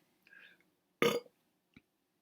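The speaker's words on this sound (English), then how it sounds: "I'm burping, wait." A single loud, close burp stands alone in near silence, with a faint murmur just before it and a small click afterward.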